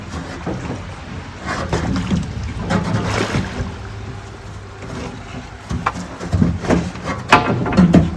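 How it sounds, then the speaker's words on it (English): A barge loaded with stone is pushed into an upper sluice. Water sloshes and churns steadily throughout, with soft knocks and splashes, close and fairly loud, and no talking. "Now I am ready to push barge with stone into upper sluice"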